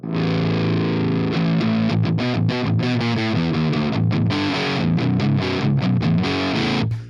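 An electric guitar plays through a vintage amp and a Kohle pedal, with a clean low-end channel blended under the distortion. The chords are loud, driven and rhythmic, and they ring without a break.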